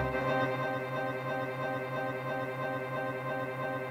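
Glitter plugin delay with feedback at maximum makes a dense, endlessly repeating wall of echoes, a steady droning texture that neither builds nor decays, quiet and without voices.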